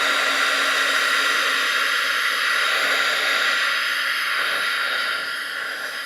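A dryer blows a loud, steady, hissing rush of air close by, drying dark green paint on a piece of soccer-themed mail art, and tapers off slightly at the end.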